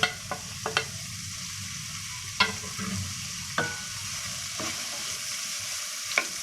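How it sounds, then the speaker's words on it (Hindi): Corn kernels, green capsicum and shredded cabbage sauté in a little oil, giving a steady sizzle broken by several sharp clacks of a spoon stirring and scraping the pan, close and fairly loud, with no voices. "ये हमने थोड़े से ऑयल में इसको सोते करना"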